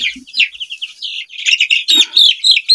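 Fourteen-day-old baby chicks chirp loudly and rapidly at close range while being given eye-drop vaccinations, a dense run of high, overlapping peeps with hardly a pause.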